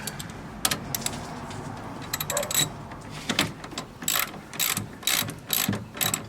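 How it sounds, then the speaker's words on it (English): A ratchet tightens the clamps on a car battery's terminals, giving bursts of quick, close metallic clicks in irregular runs, with short pauses between strokes and no talking. "And they're nice and secure, and you can tighten them up."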